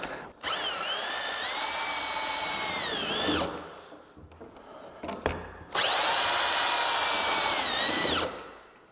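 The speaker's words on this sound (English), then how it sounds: "I'm going to use the key for drill" A power drill driving screws to join cube sections whines loudly in two long runs, pitch dipping as it bites, separated by a pause with a few clunks and taps.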